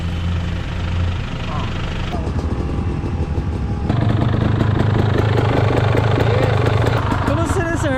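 A new motorcycle engine idles and revs at an enduro gathering in the northern mountains, a steady low drone that swells louder partway through, with people chatting close by over it.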